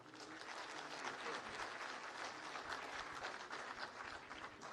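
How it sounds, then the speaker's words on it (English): A room of attendees at a road safety event gives a sustained round of applause, many hands clapping in an even, continuous wash that holds steady throughout. "I think they deserve a round of applause from all of you"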